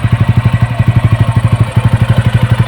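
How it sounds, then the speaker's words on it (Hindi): A TVS Ronin 225cc motorcycle engine idles steadily, loud and close, with a fast, even throbbing beat and a mechanical clatter, with no other sound over it. "और ये इधर इंजन की आवाज़"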